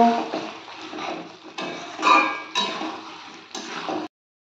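A lid going on a pan of chicken kosha cooking on the stove, heard as a few short clattering metal knocks over low kitchen noise, ending abruptly.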